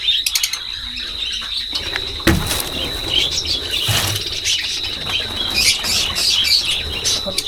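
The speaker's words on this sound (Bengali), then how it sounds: "দুইটা ওই পাশে কাকাতুয়া আর এই পাশে বাজরিগার পাখি খাওয়ান দেওয়া শেষ করলাম" Pet budgerigars and cockatoos in cages give rapid, close chirps and tweets, with a few bursts of wing flapping and rattling cage noise among the calls.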